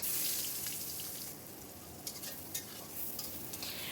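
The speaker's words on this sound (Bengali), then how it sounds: "পেঁয়াজটাকে আমি এক মিনিটের মতো একটু ভেজে নিচ্ছি" Onions fry in mustard oil left over from frying hilsa fish, a soft, close hiss with scraping stirs and a few light clicks as they are turned.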